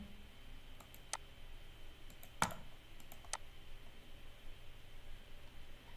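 Sparse keyboard key presses while AutoCAD commands are entered, a few isolated clicks with one sharper tap, close and quiet over steady background hiss, no talk.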